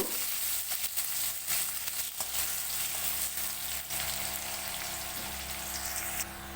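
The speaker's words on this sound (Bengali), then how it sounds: "আর মাঝারি সাইজের একটা পেঁয়াজ কুচি দিয়ে দেব পেঁয়াজগুলো ভেজে নেব" Chopped onions fry in oil with two bay leaves and a whole dried red chili for a prawn and bottle gourd dish, producing a steady, moderately loud sizzle with light stirring and no speech.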